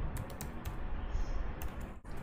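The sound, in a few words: typing HTML code on a computer keyboard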